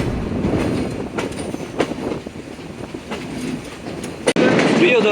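The Intercity Rupsha Express passenger train, on the Khulna to Natore run between Kotchandpur and Chuadanga, rolls along the tracks with a steady loud rumble, clickety-clack of wheels and a brief sharp clank near the end.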